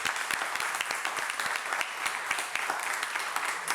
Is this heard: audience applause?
yes